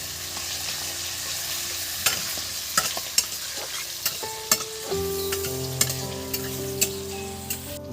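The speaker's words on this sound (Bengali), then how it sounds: "এই যে কুচি করা পেঁয়াজগুলো আমি দিয়ে দিচ্ছি এর মধ্যে" Chopped onions frying in oil for chicken pulao: a steady sizzling hiss with repeated sharp clicks of a stirring utensil against the pan over a low hum, no talk.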